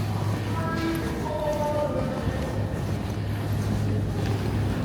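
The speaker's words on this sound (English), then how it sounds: "the trains are like these in the stations" A Paris metro train in a station, with a steady low rumble and a few whining tonal squeals of wheels or motors. The sound is moderately close and continuous.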